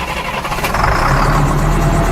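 An engine that was just fitted with an upgraded, gravity-fed fuel system cranks, catches and settles into a loud, steady idle that rumbles close by.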